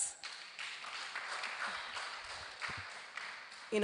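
An audience at a national convening on urban violence in Nigeria gives a round of applause, a fairly quiet, steady wash of many hands clapping that carries on for a few seconds and ends abruptly.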